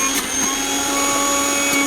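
A Sujata juicer mixer whirs at a constant high-speed drone while making carrot juice, loud and steady with no talking.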